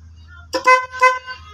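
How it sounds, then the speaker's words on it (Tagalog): A car horn being tested during wiring troubleshooting gives two short honks about half a second apart, loud and close, over a low idling hum. "Sige nga, pakibusina mo nga."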